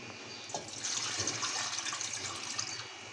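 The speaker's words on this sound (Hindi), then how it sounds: "और इधर मैं इसमें पानी डाल दूँगी।" Water is poured into a Pakistani-style chutney mixture at home, a steady splashing, trickling flow that swells after a moment and continues close by without any talking.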